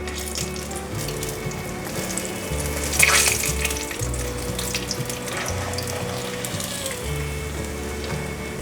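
King oyster mushroom and tofu skin deep-frying in hot oil make a loud, busy bubbling sizzle up close, with a constant crackle and a brief louder burst partway through.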